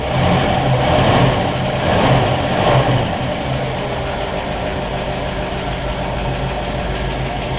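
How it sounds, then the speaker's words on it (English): A 1960 Pontiac barn-find engine with Pertronix electronic ignition idles steadily nearby with a low, even rumble; it swells slightly a few times early on, then settles into a constant hum. "Sweet running engine."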